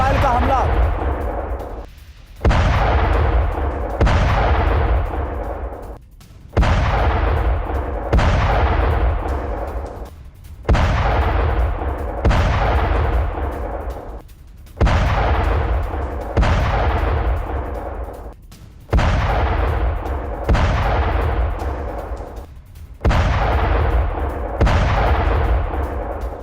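Gunfire and blasts from an Israeli attack on Tehran at night, heard as a repeating series of loud booming bursts that each decay over a second or two, recurring steadily throughout.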